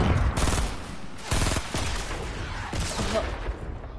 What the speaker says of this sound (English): Now you can shoot.